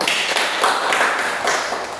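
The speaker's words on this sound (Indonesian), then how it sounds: "Tepuk tangan untuk kalian semua." A university lecture class in comparative Islamic jurisprudence breaks into applause for the students, a dense steady wash of many hands clapping loudly throughout.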